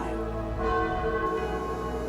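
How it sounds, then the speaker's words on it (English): Warning bells toll over a village beneath smoking mountain peaks, a rich ringing with overlapping strikes and long humming resonance, loud and continuous throughout. "Whenever smoke rose from the peaks, bells rang in warning."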